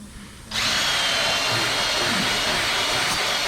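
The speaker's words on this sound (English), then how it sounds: "Now we're going to take the drill." After a brief quiet moment, a power drill kicks in loudly and runs at a steady, high whine close by for the rest of the clip, drilling a hole in a tire during a repair from the inside.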